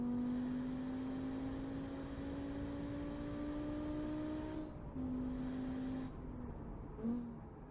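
A sports car engine in a video game hums steadily at a constant pitch, rising slightly, then drops and revs briefly as it shifts, fairly quiet and close.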